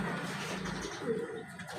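Soft, low pigeon coos murmur over a steady outdoor background hum, faint and somewhat distant.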